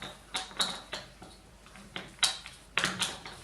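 Board game tiles shuffled by hand on a table, irregular clacking bursts of tiles knocking and sliding together, close and fairly loud, with short pauses between clusters.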